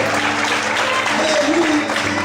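A Portuguese-speaking church congregation applauds during a sermon, steady dense clapping filling the room at close range while a voice speaks over it.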